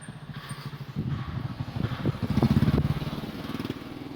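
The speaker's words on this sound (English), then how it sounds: "There's a motorbike coming." A motorbike approaches along a Bangkok street, its low engine drone rising in loudness as it nears over a steady background rumble.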